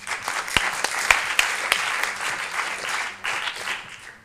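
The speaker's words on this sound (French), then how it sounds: "Moi, je dis que ça s'applaudit, ça." Audience at an improv comedy show in Paris bursts into applause, a dense burst of clapping with a few sharper hand slaps standing out, steady throughout and close, with no talking over it.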